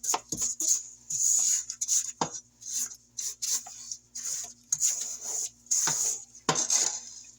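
A stand mixer creams pound cake batter in fourth gear, making choppy scraping and clattering bursts in quick irregular succession over a thin steady whir, near and fairly loud.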